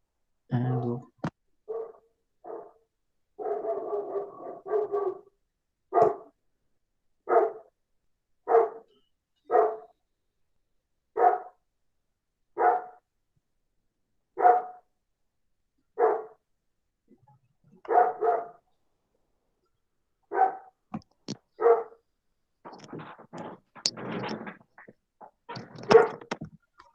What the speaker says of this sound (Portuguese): Os cachorros do Paulo estão bravos